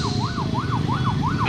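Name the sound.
ambulance siren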